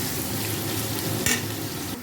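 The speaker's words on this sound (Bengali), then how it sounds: "পেঁয়াজটা ভাজা হতে হতে আমি আদা রসুন লঙ্কাটা পেস্ট করে নেব" Onions frying in a pan with whole garam masala for chicken biryani, giving a steady close-up sizzle with a brief clatter of stirring partway through.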